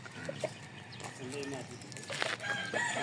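Young roosters (stags) on a Filipino farm cluck and crow in short bursts at close range, with voices talking over them and a busy outdoor background throughout.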